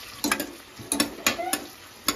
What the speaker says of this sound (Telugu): మస్టర్డ్ సీడ్స్ వేసుకున్నాక ఇట్లా కలుపుకోవాలన్నమాట.